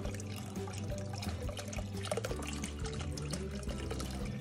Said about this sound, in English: And there we put in the chicken broth.